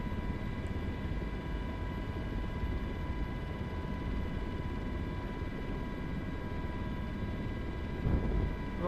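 Simulated Miltech MH60 helicopter in a VR flight simulator, a steady droning rotor and engine hum held at even loudness throughout with no talk.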